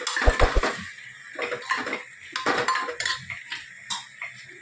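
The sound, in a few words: mixing food with spices in a pot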